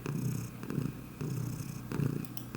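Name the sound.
pet cat purring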